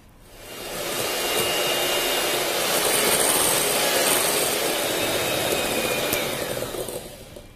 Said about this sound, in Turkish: Önce yavaş ve sonra hızlı devirde çırpmaya başlıyorum.